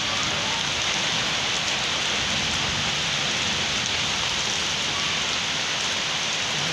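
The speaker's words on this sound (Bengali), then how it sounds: "দেখুন বর্ষাকালের মতো বৃষ্টি শুরু হয়ে গেল।" A monsoon-like downpour hisses evenly and loudly over surfaces, a dense unbroken roar of raindrops with no voices.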